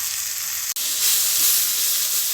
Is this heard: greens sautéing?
yes